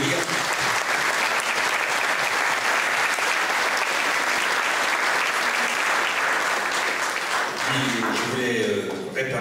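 Sustained audience applause for the Venezuelan ambassador at a support evening, dense and steady throughout, with a voice starting to speak near the end as it fades.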